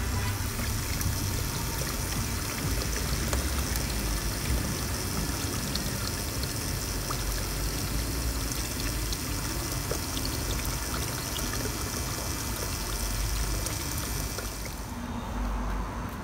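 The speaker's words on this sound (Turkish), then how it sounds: "şu anda borun içerisindeki suyu boşaltıyoruz arkadaşlar" Water pours steadily out of a home solar water-heating pipe as it is drained, a continuous close gushing rush that holds level throughout and thins out slightly at the very end.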